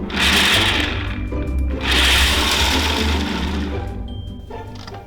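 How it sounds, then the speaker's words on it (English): A food processor chops hazelnuts into coarse chunks in a kitchen, loud and steady whirring with a brief dip in the middle, close by and alone. "You can easily chop these nuts by hand, but I find it really easy just to pop them in the food processor."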